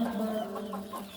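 A rooster or hen calls with a short, close clucking and crowing cry among backyard chickens kept at a home, loud and alone for about a second.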